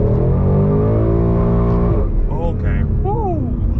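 A base Ford Mustang on 235 all-season tires accelerates hard in drag strip drive mode, its loud engine note climbing steadily through the rev range, then dropping at a gearshift and rising again, with a voice over it.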